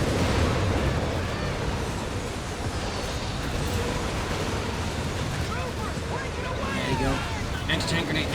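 An artillery barrage in Company of Heroes 3 keeps up a dense, continuous roar of explosions and rumble for the whole stretch, with faint whistles layered over the din.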